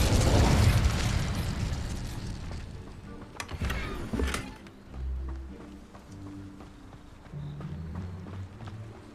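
The Incendio fire spell cast in Hogwarts Legacy, a loud whooshing burst of flame that roars and crackles for a few seconds before trailing off into low rumbling game ambience.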